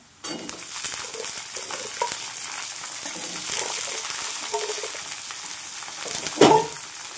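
Peeled drumsticks drop into a pan of fried onion, and a close, continuous sizzle of hot oil follows with light stirring scrapes and a brief louder clatter near the end.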